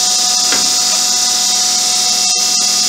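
Cincinnati 1248 Filmatic cylindrical grinder spindle running steadily with a high, even whine and faint rhythmic ticks, close and loud with no talk.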